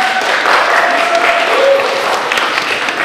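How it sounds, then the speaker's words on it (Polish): An audience at a career-planning presentation session applauds a team, steady dense clapping that fills the room at constant loudness for a few seconds, with faint voices underneath. "Duże brawa dla zespołu."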